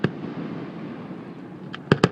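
Distant fireworks rumble in a low continuous roll like thunder, followed by one faint pop and two sharper cracks at the end, outdoors with no talk.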